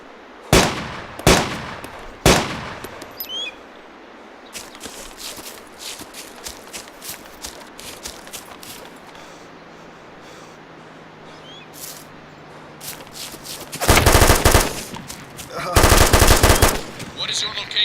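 Enemy machine gun fire in a shooting video game, with a few sharp bursts early, then a quieter stretch with footsteps and rustling, followed by two long loud sustained volleys near the end.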